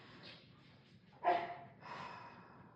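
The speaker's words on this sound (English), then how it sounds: "Sorry about my dog. She must have had a nightmare." A dog woken from a nightmare gives a few short, muffled barks and snorts nearby, the loudest burst in the middle, in an otherwise quiet indoor room.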